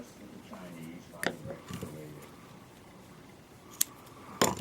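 Scissors snip through knitting yarn while finishing a pair of fingerless gloves, a few short crisp clicks between stretches of quiet talk.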